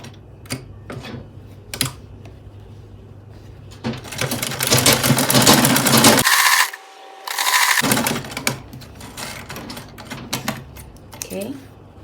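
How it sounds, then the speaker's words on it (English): A sewing machine runs in a steady, close mechanical whir as it stitches a bralette for beachwear, preceded by softer handling sounds and brief talk. "then I am going to sew here with 1/2 inch or 1/4 inch"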